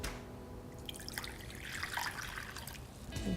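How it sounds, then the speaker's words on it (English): Warm water, heated to 110 degrees, trickles and splashes into a medium mixing bowl for gluten-free focaccia dough, a quiet steady pour swelling midway and ending with a brief splash. "in a medium mixing bowl, I'm going to put a cup of water that's been heated to 110 degrees"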